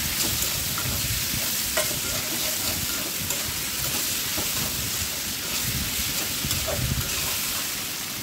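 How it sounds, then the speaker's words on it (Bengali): Radish, potato and eggplant cooking with salt and turmeric in a pan, stirred as they fry: a continuous, steady sizzle with scraping and stirring noises throughout, close and fairly loud, with no talking. "সবজিগুলো সুন্দর করে ভেজে নেব।"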